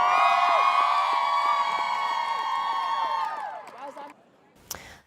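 Loud stadium crowd of Taylor Swift fans cheering, screaming and whooping at Lucas Oil Stadium in Indianapolis, a dense sustained roar of many voices that fades out toward the end.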